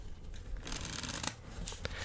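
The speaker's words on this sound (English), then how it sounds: "We can continue to shuffle these as much as we like." Playing cards being shuffled for a card magic routine, soft riffling and flicking bursts with a few crisp snaps, quiet and close, with no voices.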